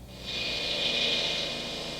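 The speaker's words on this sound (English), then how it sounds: "Air compressor's going, vacuum's going to suck all the dust out of this." An air compressor and a shop vacuum run together in a workshop before sandblasting steel components, giving a steady, loud, hissing whoosh with a constant low rumble underneath.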